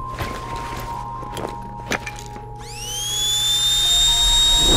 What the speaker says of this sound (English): I need my drill.